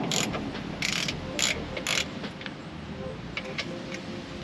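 A ratchet wrench with a 10mm socket loosening a bolt on a Jeep JLU, giving a few quick bursts of close, crisp clicking over a steady background hum.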